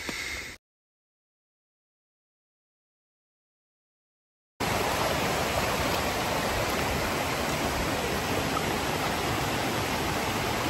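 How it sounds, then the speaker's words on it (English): Creek water rushing steadily on the way to Chirilla Falls on the Sunshine Coast Great Walk, a dense, continuous flow that starts after several seconds of silence. "Quick creek crossing. And then we'll head up to Chirilla Falls."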